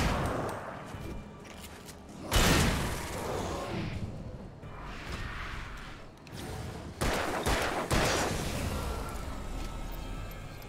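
Shotgun blasts in the video game Alan Wake, a few loud, booming shots spaced several seconds apart over a dark ambient background, each with a sharp broadband crack and lingering tail.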